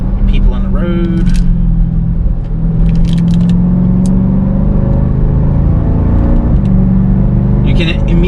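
Cabin drone of a 2022 Dodge Durango SRT engine under acceleration while driving, a steady low rumble climbing gradually in pitch, with road noise and brief talk over it.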